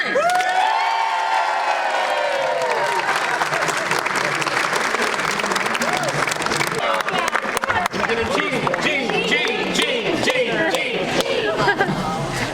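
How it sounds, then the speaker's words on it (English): Audience clapping and cheering at a Chamber of Commerce expo ribbon cutting, a sustained loud wash of applause with whoops and crowd chatter that continues steadily throughout. "Clap and cheer."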